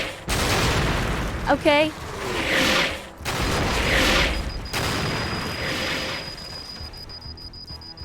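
Artillery fire in the video game Door Kickers 2: several heavy, broad blasts and rumbling barrages spread across the moment, with someone talking briefly between them.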